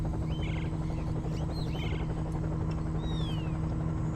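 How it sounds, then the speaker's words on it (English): Helicopter rotor and engine drone overhead in a Vietnam jungle setting, a constant low throbbing hum with a steady tonal whine, fairly faint, while birds chirp briefly above it. "Fucking helicopter's drowning it out."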